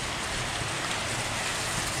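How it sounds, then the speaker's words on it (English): Heavy rain downpour pouring steadily around a rider sheltering under a loading bay in Mackay, a dense continuous hiss of drops with no voices. "hopefully this heavy downpour will pass"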